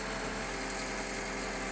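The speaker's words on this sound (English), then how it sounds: "On the assembly line, the planetary final drive of the crawler tractor undergoes testing." Steady mechanical whine and hum from a Liebherr crawler tractor's planetary final drive turning under test on a factory assembly line, continuous and even with no talk.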